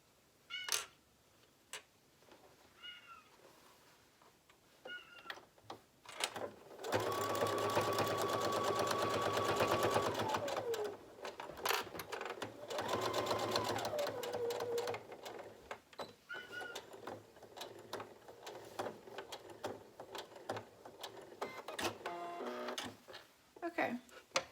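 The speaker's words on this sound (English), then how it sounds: "I'm going to go ahead and back tack this now" A sewing machine back tacks a seam on a fabric surgical mask in two short runs, with its whirring motor shifting pitch between them. Sparse handling clicks come before and after.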